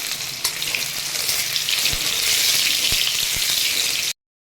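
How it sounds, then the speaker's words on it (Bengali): Cut potatoes frying with turmeric in mustard oil hiss in a constant bright sizzle with a few faint knocks, then stop abruptly into silence. "ওগুলোকে আমি ভেজে তুলে নেব একটু হলুদ দিয়ে ভেজে নেব"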